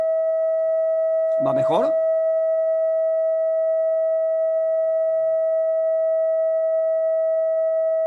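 Synthesizer holding one steady, high-pitched sine-like tone for the whole stretch, loud and unbroken, with a brief spoken question over it early on.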